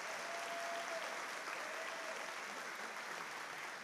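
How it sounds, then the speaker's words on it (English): Quiet, distant audience applause at a SUNY WCC spring commencement ceremony, a continuous even patter of many hands in a large hall, with a faint sustained tone drifting in early and no speech. "give them a round of applause"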